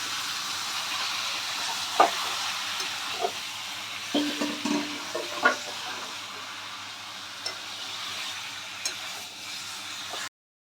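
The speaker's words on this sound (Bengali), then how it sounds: "চিকেনটা আমি ফ্রাই করে নেব।" Chicken frying in a pan over a high gas flame, a continuous hissing sizzle with scattered pops and spatula clinks, close and moderately loud, ending abruptly.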